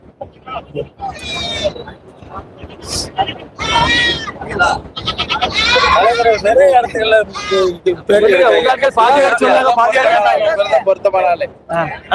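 A young goat bleats repeatedly at a rural livestock gathering, loud nearby wavering cries that come in bursts and then run together over a busy background of people talking.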